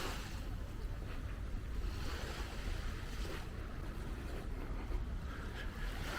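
Ocean waves wash onto the shore at Durrës beach, heard as a steady broadband surf roar with some wind buffeting the microphone and no talk.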